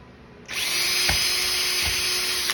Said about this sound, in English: We just gotta drill our first hole here.